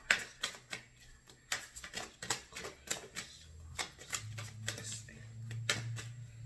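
Tarot cards shuffled and pulled from a deck, a rapid run of crisp close-up clicks and riffles with a few soft slides, quiet and without talk.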